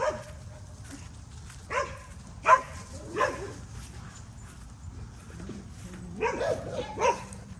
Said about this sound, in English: You have a dog barking through the fence.